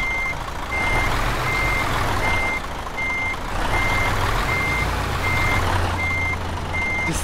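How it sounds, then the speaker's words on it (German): Reversing beeps from a truck backing into a parking spot in Euro Truck Simulator 2, an evenly spaced series of about eleven beeps over a steady low engine rumble, with no talk. "Ich versuche gerade rückwärts einzuparken."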